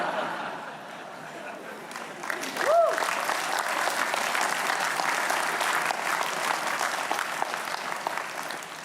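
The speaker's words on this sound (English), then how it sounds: "That is the applause of grateful hydrophobic students." Graduating students at a university commencement ceremony break into sustained applause from a large crowd, a broad wash of clapping that swells and holds steady with scattered voices and chuckles mixed in.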